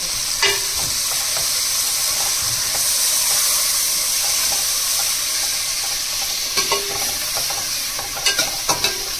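Mutton curry stirred and frying in a pan with curry leaves and coriander, a steady close sizzle with scraping stir strokes and a few sharp ladle knocks near the end; no talk.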